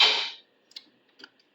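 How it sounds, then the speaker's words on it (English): A battery-powered electric fuel pump starts with a loud broadband burst that fades within half a second, then settles into sparse, faint ticks at irregular intervals, with no voices. "I know it'll power the fuel pump."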